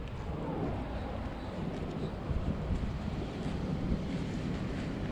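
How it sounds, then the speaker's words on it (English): Strong wind blusters steadily outdoors in a neighborhood, roaring across the microphone with continuous low rumble and occasional louder gusts throughout. "It's really, really windy right now."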